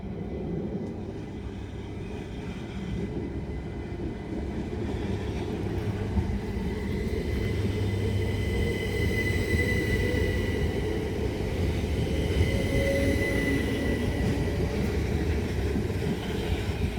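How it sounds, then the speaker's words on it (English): A test train arrives at Tonbridge station, a steady low rumble of rail wheels and motors that gradually grows louder, with faint high whining tones above and no voices. "we should have the test train come out,"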